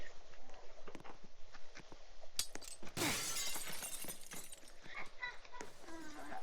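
A glass panel shatters in the Roblox Glass Bridge game, a sharp burst of breaking glass in the middle of the clip amid footsteps, game noise and talking.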